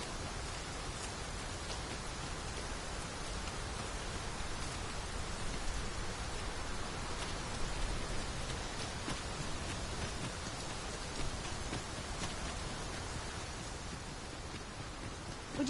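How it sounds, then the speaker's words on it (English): Steady rain falling in the video game Dragon's Dogma 2, a soft, even hiss of drops on surfaces that continues unbroken and fairly quiet throughout, with no voices. "Mind the rain, Master. The weather may yet turn fierce."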